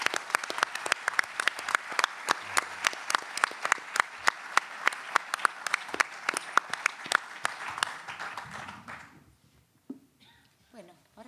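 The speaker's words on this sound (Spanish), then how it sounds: "pido también un aplauso en su memoria" Audience applause offered in memory of someone at a popular educators' gathering: dense, steady clapping from a crowd for about nine seconds, then quickly thinning out into a quiet room.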